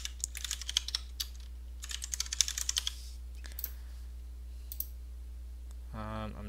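Rapid clicks from a computer keyboard as a password is entered: irregular bursts of keystrokes for about three seconds, then a few scattered taps and pauses, close and fairly quiet over a low hum.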